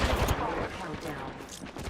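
Rapid bursts of gunfire in a battle royale video game strike the player, a dense volley up front that thins into scattered shots, with a voice speaking over the shooting.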